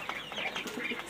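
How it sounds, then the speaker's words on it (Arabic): Pigeons kept at home cooing softly, a short run of low burbling calls close by with faint clucking texture and no talking. "سامعين الصوت الحلو ده صوت الحمام"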